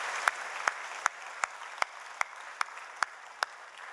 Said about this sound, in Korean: 청소년 팀 다음으로 박수 소리가 크다.